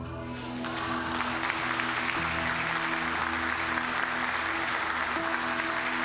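A church congregation at a family worship service claps together in a steady, dense round of applause that swells after a quiet start, with organ or keyboard chords sustained underneath.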